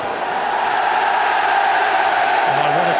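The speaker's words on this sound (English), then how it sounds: "An ironic applause for the assistant referee as he gives Rangers a throw from the Rangers fans gathered around him." Sustained crowd noise from Rangers fans at a Dundee United match, a dense steady roar with scattered clapping as ironic applause for the assistant referee, loud and continuous with no break.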